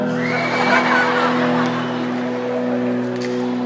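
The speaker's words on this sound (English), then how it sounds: "we got all this crowd screaming and going nuts" A large concert crowd at a Christian rock show screams and cheers in a loud, sustained roar, with a steady tonal hum running underneath.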